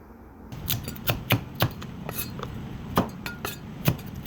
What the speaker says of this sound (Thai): อันนี้เราก็มาสอยตะไคร้เพิ่มนะครับ